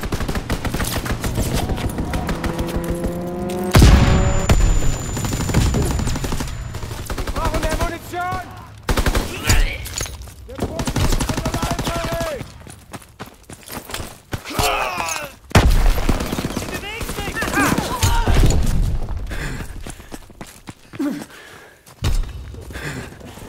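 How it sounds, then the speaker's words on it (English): Enemy aircraft strafing run in Call of Duty: WWII, with loud bursts of rapid machine-gun fire and heavy impacts repeating across the scene amid dense in-game battle noise. "Enemy strafing run inbound."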